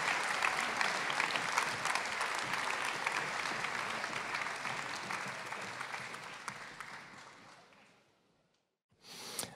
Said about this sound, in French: Mais on peut déjà applaudir tout le monde pour ce qu'ils nous ont présenté.